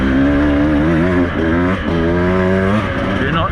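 A motorcycle engine revs loudly and steadily close by, its pitch rising and falling as the bike is thrown around off-road, and a voice is heard over it.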